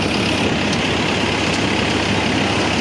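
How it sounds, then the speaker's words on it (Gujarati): A tractor engine idles beside a thresher at a farm during the cumin harvest, a loud, steady, close diesel rumble that drones on unbroken and alone. "આજ તો જોવો આ ટ્રેક્ટર અને હલર"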